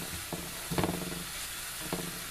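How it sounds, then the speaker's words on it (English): Sofrito of onion and celery sizzling in olive oil as it gets stirred, with a quiet, continuous fry broken by three short scraping stirs. "I'm just going to give it a stir"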